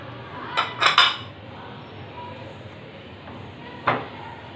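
Flour mixed in a bowl with ajwain, cumin and salt, a few close clinks and scrapes of a spoon against the bowl over a quiet background.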